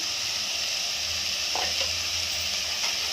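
Green beans frying in a pan being stirred, a steady close sizzle with a few scraping and clinking strokes of a spoon partway through.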